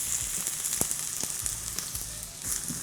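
Onions sizzle and crackle in hot vegetable oil in a wok: a steady, close frying hiss with a few sharp pops and ticks scattered through it.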